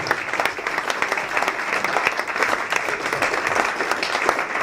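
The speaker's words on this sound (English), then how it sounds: "please a round of applause to all of your boxers here today" An audience at a boxing press launch claps for the boxers, brisk, fairly loud applause with distinct individual claps from a modest crowd, steady throughout with no voices.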